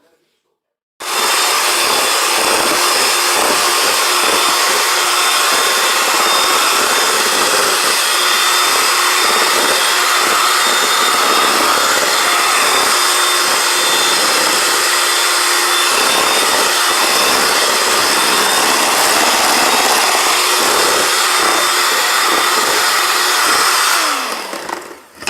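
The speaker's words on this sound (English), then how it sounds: "We're going to keep the blender going and we're going to add half of our dry mix." Electric blender mixing cake batter with dry mix being added, a loud steady whirring motor hum that starts abruptly, holds constant for over twenty seconds, then cuts off.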